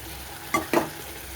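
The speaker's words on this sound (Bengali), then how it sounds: "মশলাটা খুব ভালোভাবে কষিয়ে নিই" Spice paste frying in a pan, a steady close sizzle broken by two quick scraping stirs in the middle.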